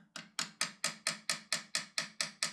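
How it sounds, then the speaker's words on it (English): Small hammer tapping a steel taper pin into a reamed hole on a large model showman's engine, eleven sharp, evenly spaced metallic taps in steady rhythm, close and clear with no talk. "With the help of a small hammer, I'm firmly but gently tapping the taper pin in place."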